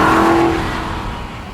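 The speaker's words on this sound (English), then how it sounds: "get in the Vantage Coupe, which means it makes the same noise" An Aston Martin V8 Vantage engine revs loudly and close up, its strong, sharp note peaking at the start and then gradually settling into a lower rumble.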